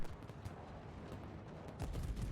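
Rapid secondary battery guns fire from a German battleship in World of Warships, pounding an enemy destroyer with a dense, continuous rumble of overlapping shots that swells louder near the end.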